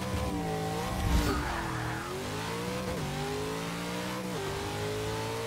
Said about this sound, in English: quarter mile in the Buick with the 7-liter Hemi